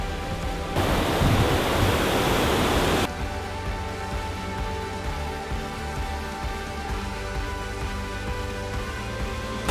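Elbow Falls waterfall in snow gives a steady, loud, broadband rush of falling water that runs the whole time, heavier and brighter for the first couple of seconds and then settling into an even roar.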